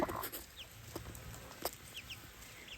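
Soft, scattered clucks and short chirps from a few chickens and young chicks nearby on a homestead, with brief higher peeps mixed in over a quiet outdoor background.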